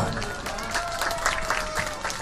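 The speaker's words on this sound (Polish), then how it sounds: "Wielkie brawa dla mistrza!" An audience applauds a karate master after a children's karate demonstration at a housing cooperative's Children's Day event, with steady, dense clapping throughout and a few louder individual claps standing out.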